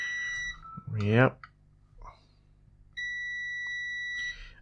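A multimeter's continuity tester beeps on inductor coils: two steady, clear electronic tones, each over a second long, separated by a pause in which a voice briefly speaks.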